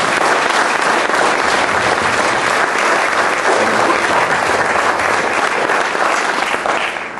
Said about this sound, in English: I think that we should all give Ann Becker a round of applause for doing that